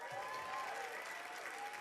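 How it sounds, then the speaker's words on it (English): Audience applause fills the hall at the E3 Bethesda presentation, a steady wash of clapping from a large crowd, distant and even throughout. "So you've heard of it. Good. the applause."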